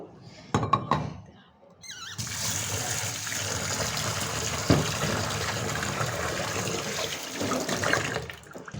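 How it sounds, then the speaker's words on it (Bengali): Red lentils being rinsed by hand in water, with steady sloshing and running-water noise from a tap or sink that lasts most of the clip, after a few brief knocks at the start. "ভালো করে ধুয়ে নিতে হবে ডালটা"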